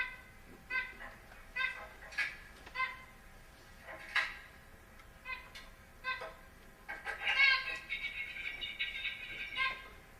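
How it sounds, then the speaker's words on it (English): Harmonic bird calls repeat in short bursts, with a longer, busier stretch of chirping near the end, moderately loud with no talking. "That's a bird recording."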